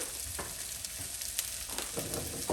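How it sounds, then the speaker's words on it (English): Brisket sizzles steadily as it sears in a hot pan, a continuous close frying hiss with occasional pops and stirring scrapes. "in this pan, I'm going to first sear the brisket"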